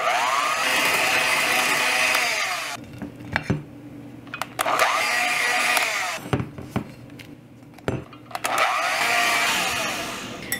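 A mixer whirs loudly as it blends cream cheese and honey until smooth, running in steady bursts of about three seconds with short pauses and clicks between them.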